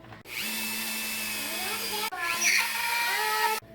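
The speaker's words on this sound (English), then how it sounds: "Then we need to countersink the screw. I use this bit in my Dremel." A high-pitched Dremel rotary tool whines steadily, cuts out briefly, then spins up again with grinding as it countersinks a screw hole, fairly close.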